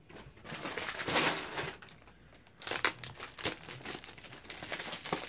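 Paper packaging from an online-order haul is crumpled and crinkled during unboxing, in close, irregular rustling bursts that rise and fall.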